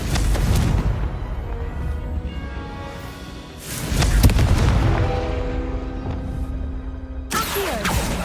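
Confringo blasting spell explosions in Hogwarts Legacy, loud booming blasts with rumbling tails, one early, another midway, and a sharp final burst near the end, over a steady game background.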